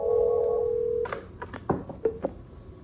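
A Cisco 8851 IP phone places a call: a steady dial tone cuts off at a soft-key press, followed by a quick series of short electronic tones and clicks, close and clear.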